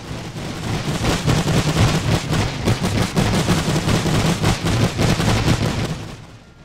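Sustained machine gun fire from First World War weapons in a Serbian campaign battle pours out as a continuous heavy clatter of rapid bursts, loud and close, with no voices over it.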